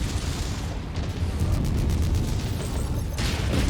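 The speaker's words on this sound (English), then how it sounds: "Reaction explosion." Mech blowing apart in a reactor explosion in the PC game Mechwarrior 5 (Rise of Rasalhague DLC), a loud, sustained rumbling blast with heavy low-end boom that stays dense and continuous throughout, with no talk over it.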